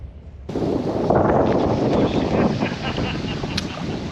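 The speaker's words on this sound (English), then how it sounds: "It's pretty windy, guys. Pretty freaking windy." Strong wind buffets the microphone in a steady, loud roar after a sudden onset, with no talking, at a riverside boat ramp in late fall.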